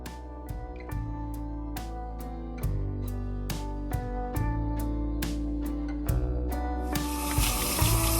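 Eggs being scrubbed by hand under a running kitchen tap, steady water flow with repeated rhythmic scrubbing strokes and clunks, close and moderately loud.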